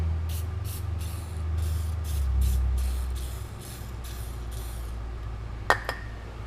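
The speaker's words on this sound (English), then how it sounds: "Ah man, the WD-40 is already starting to kind of seize up on me." A WD-40 spray can is sprayed while fitting front sway bar brackets on a Porsche 944 with an LS engine swap. Soft repeated hissing bursts sit over a low background rumble, and a sharp metallic clink comes near the end.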